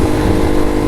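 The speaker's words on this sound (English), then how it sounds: "Oh man, I love this exhaust though." Motorcycle exhaust droning loud and close while riding, a steady low engine rumble with wind rush, heard only briefly.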